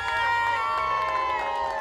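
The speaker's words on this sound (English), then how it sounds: "Come on, let me hear a cheer for them." An audience cheers and shouts for a group of children about to perform, a brief burst of crowd noise mixed with a sustained ringing tone.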